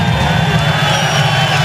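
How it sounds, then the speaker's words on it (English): A loud, dense crowd cheers and roars continuously at an IndyCar race in Michigan, a sustained wall of voices close and steady throughout. "And listen to the crowd."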